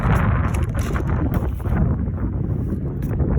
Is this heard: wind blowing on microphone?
yes